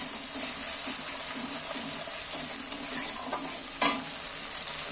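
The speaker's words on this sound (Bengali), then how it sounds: "এইবার আমি তেলটার মধ্যে ভাজবো নি খালি যা তেলটার সঙ্গে মিক্স করে নিই" Salt and spices are stirred into oil in a pan for a hilsa fish and brinjal curry, giving a steady low sizzle under soft scraping, with one sharper clink near the end.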